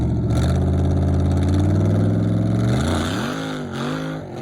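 A drag racing car with a 4-link suspension launches after a slight clutch dump. Its engine holds a loud, steady, harmonic drone, then its pitch sags and climbs again as the car pulls away.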